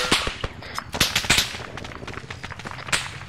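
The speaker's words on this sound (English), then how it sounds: "Yeah, 40 Mike Mike fire." Rapid bursts of gunfire and sharp explosive pops from a 40mm grenade launcher in the ArmA 3 military shooter, with dense, clustered shots, one after another, loud and close over a steady battle din.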